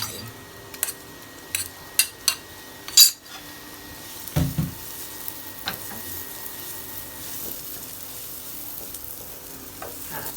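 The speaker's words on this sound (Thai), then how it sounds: "ก็ผัดนิดนึง ให้ข้าวโพดมันคลุกกับเนยหน่อยนะคะ แล้วก็ใส่กล้วยลงไป" Corn kernels and banana pieces cooking in butter in a pan for a baby snack, giving a soft steady sizzle with several sharp utensil clinks and pan scrapes early on, no talking.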